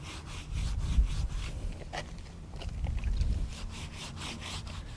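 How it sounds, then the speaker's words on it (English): A brush scrubs back and forth across teak wood coated with teak cleaner, giving a close, rhythmic rasping in uneven strokes with no talk. "As you scrub with it, it's going to strip the soft areas of the teak out."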